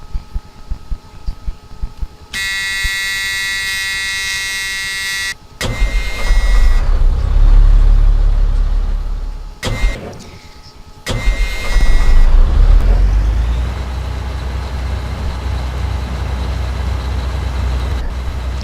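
Bus engine in the Rigs of Rods simulator cranks and catches, then settles into a loud, steady low diesel rumble after a few clicks and a brief high whine, with revving surges before holding a constant idle.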